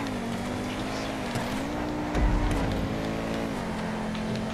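Engine of the Osiris race car in GTA 5 during a race, a steady high revving drone that holds nearly constant pitch, dips briefly, and is joined near the middle by a short heavy thump.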